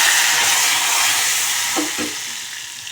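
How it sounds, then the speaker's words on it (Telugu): Garlic and asafoetida tempering sizzle in a hot pan for a green-chilli dal, giving a loud, continuous hiss with a couple of brief stirring scrapes near the end. "ఇప్పుడు ఇది మంచిగా ఫ్రై అయింది కదా, తాలింపు వేసుకోవడమే"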